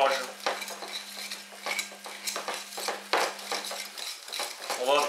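Coarse almond paste with orange blossom water is stirred in a bowl, a spoon scraping and clinking against the sides in quick irregular strokes, close and fairly quiet, with a faint steady hum underneath.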